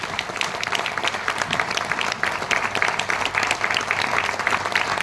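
A seminar audience in Ahmedabad, Gujarat, breaks into loud, dense applause that holds steady and fills the room for the whole stretch, with no pause or gap.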